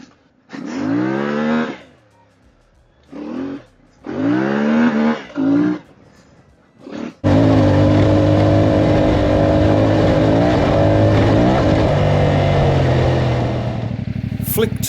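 A CFMoto Ibex 450 motorcycle ridden over a rough, sandy surface: engine revs rise and fall in swells, then turn to a steady loud roar mixed with broadband wind and road rumble, close and continuous.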